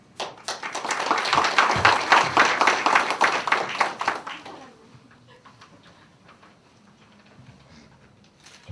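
A crowd at a Korean political candidacy press conference applauds loudly for about four seconds, a thick burst of close clapping that then drops away to faint scattered claps and room noise.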